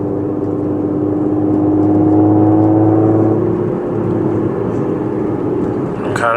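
A 2024-era Audi S4 with a Stage 2 burble tune drives along, its engine giving a steady, loud droning hum with a rising whir that eases off slightly toward the end.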